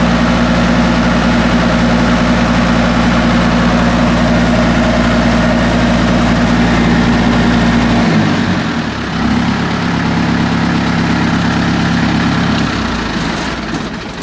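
An engine-driven welder with a newly replaced noise suppressor idles loud and close with a steady low drone, then the pitch drops and the tone roughens about two thirds of the way through while the engine keeps running.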